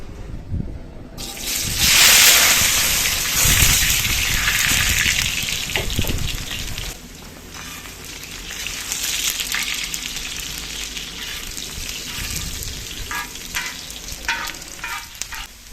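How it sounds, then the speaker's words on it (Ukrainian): Carrots hitting hot oil, then frying in a loud, bubbling sizzle that swells at first and settles into a steady crackle with scattered stirring clinks, close up with no talking. "Олія розігрілася, тож запускаємо перший інгредієнт морковку"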